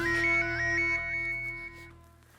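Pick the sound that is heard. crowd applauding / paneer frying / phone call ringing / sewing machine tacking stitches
phone call ringing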